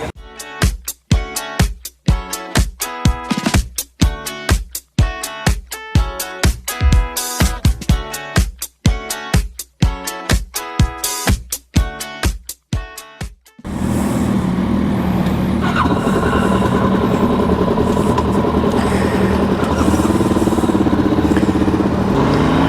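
A 2024 Suzuki DRZ400SM supermoto motorcycle, with loud rhythmic pulses, then a continuous roaring rush of engine and wind as it is ridden.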